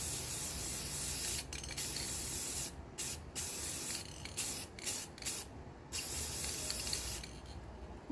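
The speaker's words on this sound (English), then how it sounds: "we're going to take our gloss, black spray paint" Gloss black spray paint being sprayed onto a tumbler, close hissing bursts from the aerosol can separated by short pauses, several sprays in a row.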